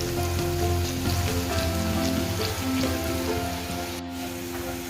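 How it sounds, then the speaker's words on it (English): Steady crackling sizzle of onions frying in hot oil over high flame, continuous and close, with a low hum underneath. "you can see this sizzling."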